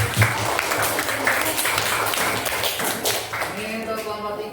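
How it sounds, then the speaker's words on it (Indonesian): A class applauds a student group after its presentation, with loud, close clapping that starts scattered and builds into a dense burst. A few voices are heard among the claps. "tepuk tangan untuk kelompok 3"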